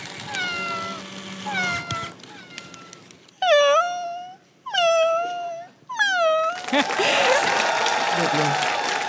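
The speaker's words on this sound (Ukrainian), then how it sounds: "тут котик різні звуки видає" A toy cat gives out a run of drawn-out meows and wailing cries, loud and close, broken by short gaps, with people talking and some background noise around it.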